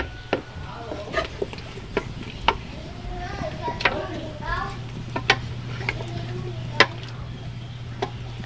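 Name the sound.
stirring duck with tucupi in a pot over wood fire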